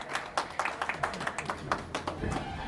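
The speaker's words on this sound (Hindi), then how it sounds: "रंजीत सर के लिए ताली।" Audience applause for a man being honored at an event, a patter of scattered claps under a steady murmur of crowd noise, with a voice speaking over it.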